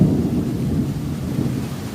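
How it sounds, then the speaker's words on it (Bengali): A low, rolling rumble of thunder from a Kalbaishakhi storm sounds continuously over a soft wash of rain, deep and sustained for the whole stretch with no voices. "আশা করি আপনারা শুনতে পারা আসমানে যে ডাকেন আসমানের যে ডাক"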